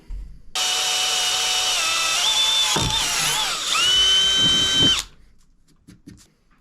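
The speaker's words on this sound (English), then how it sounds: "Let's drill that" Power drill boring a hole in a transmission part from a 2017 Polaris General, a loud, close whine that shifts pitch as the bit loads and bites, running about four seconds then cutting off.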